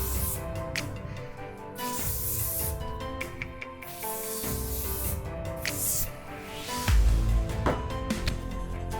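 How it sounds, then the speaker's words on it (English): Hairspray is sprayed onto freshly waved mermaid-style hair in several short hissing bursts. The bursts sit over a continuous background of music. "I just grab some hairspray and just run some hairspray in there"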